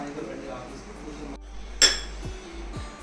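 Pieces of mutton tumble into a clay pot with a sharp clink and clatter, followed by a couple of softer knocks, close-up against a quiet kitchen background.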